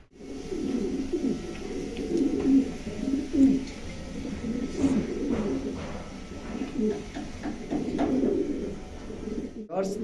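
Racing and fancy pigeons in a loft coo softly and continuously, a low rolling murmur of several birds close by, with faint chirps scattered over it.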